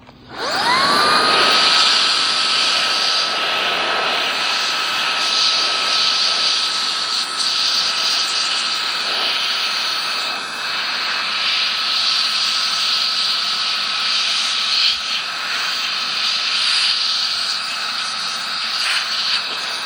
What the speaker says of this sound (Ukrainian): Ця штучка дує зі швидкістю 200 метрів на секунду.